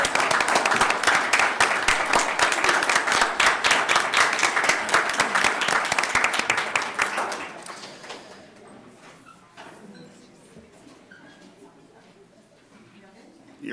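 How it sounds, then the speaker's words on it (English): Audience at a school board meeting gives students and their families a round of applause, dense clapping filling a large room for about seven seconds, then quickly fading to quiet room noise. "quick round of applause."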